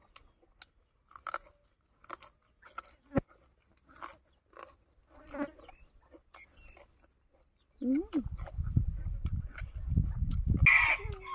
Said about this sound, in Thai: เสียงไก่แจ่